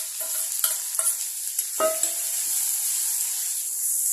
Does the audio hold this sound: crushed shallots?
yes